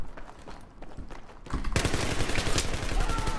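Rapid gunfire in the video game Battlefield 3, Gun Master mode, during close-quarters fighting: dense, loud bursts of shots kick in partway through and keep going over quieter game ambience.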